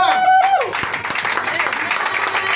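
Church congregation breaking into applause and cheering, a busy burst of clapping that swells right after a sung note fades, with voices calling out beneath it.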